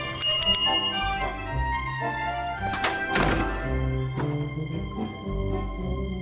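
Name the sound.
bell rung in the video game The Book of Unwritten Tales 2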